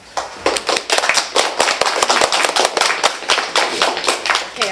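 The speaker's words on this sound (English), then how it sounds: "are we instituting clapping for everyone?" Sharp, distinct handclaps from a small group at a high school project presentation, quick uneven bursts crowding together in a lively, loose rhythm, close and fairly loud, with no voices during the clapping.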